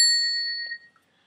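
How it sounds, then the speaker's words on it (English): A bicycle bell rung by pulling its arm gives a single bright ding that rings out and fades within a second, close and alone. "The first bell, a bell where you pull on the arm and it makes a sound like this."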